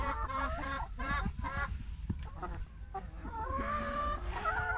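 Brown layer hens cluck and murmur continuously at close range, several calm birds overlapping in a steady chatter of short rising and falling calls, no voices.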